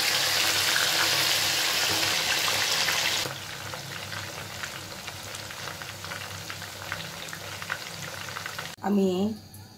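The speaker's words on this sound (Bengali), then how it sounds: "এখন আমি চিকেনগুলো দিয়ে দিচ্ছি" Chicken pieces fry in hot oil, with loud dense sizzling that drops to a softer steady crackle partway through; a voice briefly speaks at the end.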